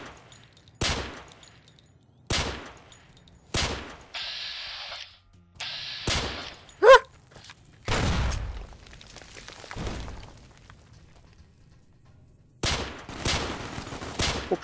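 Heavy weapon fire in Fallout New Vegas, a string of loud, sharp blasts spaced a second or two apart, with a brief buzzing whine and a short shattering crack between them.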